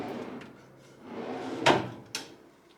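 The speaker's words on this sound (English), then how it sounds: "And the drawer is considerably more smooth." A drawer on a Snap-on KR-655 tool box gliding along newly installed slides, a soft rolling slide followed by a sharp metallic clack as it shuts and a second lighter knock, close and alone.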